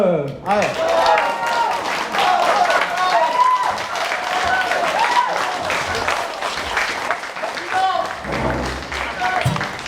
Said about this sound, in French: Un tonnerre d'applaudissements pour les fins de siècle